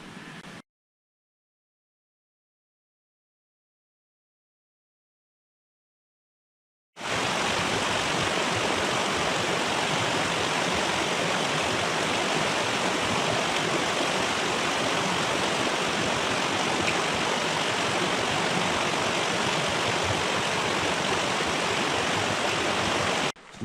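A small river on the Ozark Trail's Taum Sauk section flows with a steady, full rushing hiss. It starts after about seven seconds of near silence, then runs continuously and close, alone.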